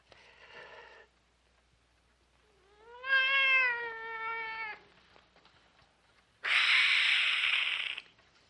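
A cat meows three times, clearly and fairly close. The first meow is short, the second is a long, drawn-out call, and the last is a harsher, louder cry.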